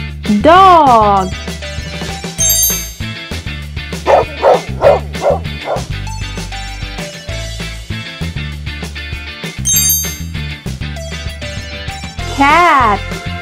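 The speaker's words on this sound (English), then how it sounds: "Dog." A dog barks and yips several times in short bursts, some with rising whimpering tones, over a loud, steady musical backing.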